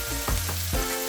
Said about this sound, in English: because I want them to fry up a bit and start cooking